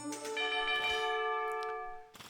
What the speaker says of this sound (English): the town bell has been rung